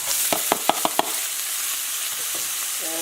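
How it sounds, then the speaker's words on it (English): Green onions, matchstick carrots and bok choy frying in a pan over a medium flame, a steady close hiss with several sharp clicks of a utensil stirring and scraping near the start. "Cook this for about 2 minutes on a medium flame."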